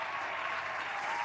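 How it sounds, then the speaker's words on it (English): A brief round of applause at a podcast taping, a soft, even patter of clapping that sounds faint and slightly distant, lasting only a moment. "Can we get a round of applause"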